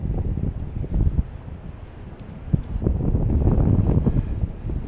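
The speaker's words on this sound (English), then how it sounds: "Might be too windy." Strong gusty wind buffets a drone's microphone, a rough low rumble that swells and fades across the clip with a few sharper thumps.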